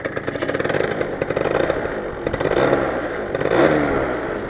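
Kick-started scooter without a battery, its engine sputtering and running: a loud, rough, rapid putter with uneven surges and rattling clatter, close up and without speech.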